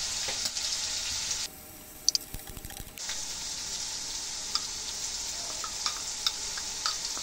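Cubed chicken seasoned with salt and chili powder fries in a hot pan, giving a steady loud sizzle that briefly drops off and then returns, with a few clinks of utensils.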